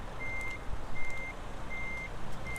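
A truck backs up in Euro Truck Simulator 2, its reverse alarm sounding four evenly spaced high beeps over a steady, rumbling diesel idle, close and clear with no voices.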